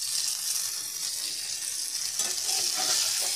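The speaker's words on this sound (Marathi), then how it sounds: "शालो फ्राय म्हणता येईल याला, अशी करून घ्यायची" Shingoli frying shallowly in oil, a constant close hiss of sizzling with faint bubbling that grows a little busier toward the end.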